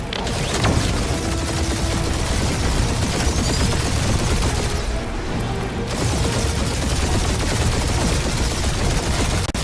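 A dense video-game gunfire barrage rattles on without pause, loud and close, with bursts, booms and mechanical clatter layered together and a brief dip in the middle.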